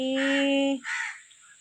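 A single loud, harsh crow caw up close, followed by a shorter, fainter call that fades into quiet.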